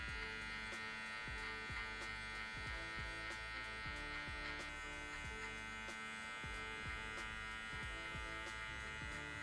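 An electric hair clipper buzzes steadily and close while a beginner barber cuts a V-fade, with repeated soft strokes of the blade through hair over the constant motor hum.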